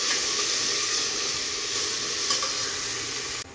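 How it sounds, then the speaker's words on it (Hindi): Crushed fresh green peas fry in a pan over low heat for tehri, giving a steady, close sizzle with faint stirring. The sizzle stays fairly even, then drops off abruptly at the very end. "ये डाल देते हैं अपना क्रश किया हुआ मटर और इसको अच्छे से भूनते हैं 3-4 मिनट"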